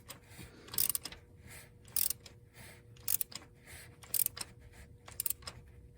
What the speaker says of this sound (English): when I do spark plugs, I like to just use a small wrench like this